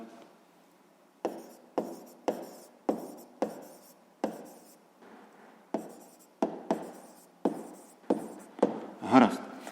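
A pen scratches across paper in a rapid series of short, close strokes with brief pauses between them, the last strokes a little heavier.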